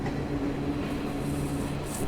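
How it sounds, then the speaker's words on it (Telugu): A passenger train pulls into a station and comes to a stop, a steady low rumble of wheels and carriages with a hissing brake tone near the end, loud and continuous. "ఏదో ట్రైన్ అయితే వచ్చి ఆగింది."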